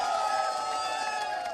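A studio audience cheers for a visiting world champion cricketer on an Indian cricket TV show, a steady dense crowd roar with whoops carrying through the whole moment.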